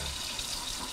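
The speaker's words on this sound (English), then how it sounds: "so just run it under water and rub off the paint." Tap water running over a paint stencil as it is rinsed, a steady hissing splash at constant level, brief and alone.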